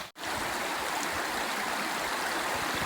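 Straight Creek runs with a steady, close, rushing babble of water, broken only by a momentary dropout near the start.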